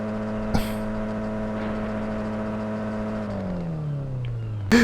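The original engine of a 2013 Wuling Sunshine S in Forza Horizon 5, a steady droning hum that holds for several seconds and then drops in pitch as it winds down, with a short click near the start.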